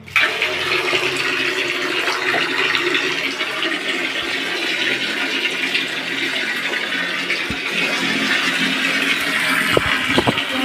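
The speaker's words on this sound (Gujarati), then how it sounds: "બાલ્ટીમાં પહેલાં તો પાણી ભરી લઈએ" Tap water pouring into a bucket makes a steady, close rushing splash that holds evenly for the whole stretch, with a few faint knocks near the end and no talking.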